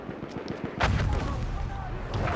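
A Lebel Model 1889 rifle fires in Battlefield 1, with a burst of loud shot transients and sustained low battle rumble, mixed with game noise.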